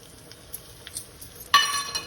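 Cashews and asafoetida pieces dropped into hot oil for a flower-based curry, starting with faint stirs and clinks, then a sudden bright sizzle that bursts up and keeps crackling steadily near the pan.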